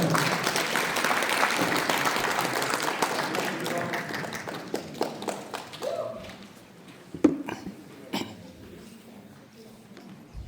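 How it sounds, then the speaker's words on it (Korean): An audience applauds to welcome a lecturer at an association training event. The dense clapping is loud and sustained at first, then thins out over the second half into a few scattered claps and faint noises. "큰 박수로 맞이해 주시기 바랍니다"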